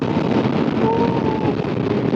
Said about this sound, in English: I'm getting hit everywhere with wind on this thing